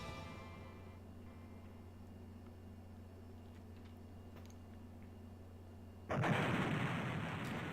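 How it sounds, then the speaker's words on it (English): Bombs explode in the Shining Force III video game: a low steady hum gives way to a sudden loud, noisy blast that rumbles on to the end. "Bombs again."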